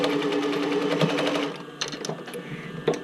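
A sewing machine stitches the band onto a swim bra top, running in a fast rattling burst for about a second and a half, then stopping, with a few short stitch bursts and handling clicks afterward, close by.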